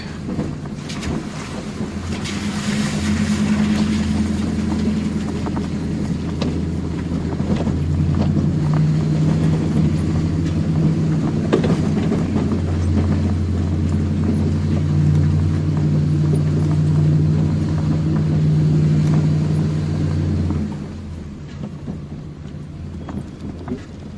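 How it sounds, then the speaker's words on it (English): A truck driving up a river valley in the Andes near Sucre, Bolivia, its engine droning steadily at close range with low humming tones and rattling from the rough track, then easing off near the end. "See how far we can get in the truck."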